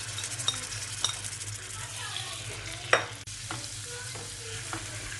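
Butter is stirred into caramelized sugar in a pan for a Tarte Tatin, with a soft bubbling sizzle and a few sharp clinks and scrapes of a spoon against the metal.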